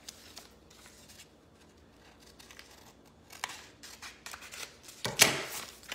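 Scissors snip through surfboard décor material to trim off an edge, with quiet rustling handling noise and a louder, sharp cut near the end.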